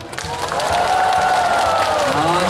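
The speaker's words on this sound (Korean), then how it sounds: "자, 함성과 함께 박수!" A festival crowd at the Sunchang soybean paste festival opening performance claps and cheers in a steady, sustained wash of applause, with a voice calling out faintly over the noise.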